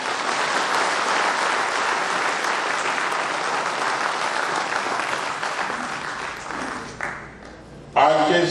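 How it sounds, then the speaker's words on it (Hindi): Audience applause at a book event hosted by a state party president, a sustained, loud wall of clapping from a large crowd that fades near the end before a voice cuts in. "2-4 तालियां बजाई,"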